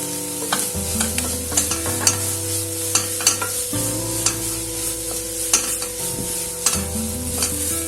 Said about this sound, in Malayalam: ഈ ബ്രൊക്കോളി ഇവിടെ ചേർത്ത് കൊടുക്കാം